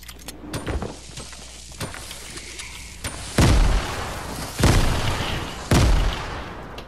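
Gunshots in the video game Fortnite: after some scattered small clicks and taps, three loud, close shots ring out about a second apart, each with a booming decay.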